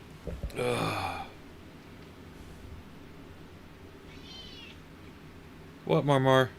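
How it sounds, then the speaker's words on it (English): A cat meows loudly twice, once near the start and once at the end, with quiet room noise and a faint high chirp between. "I can hear you meowing at me back there."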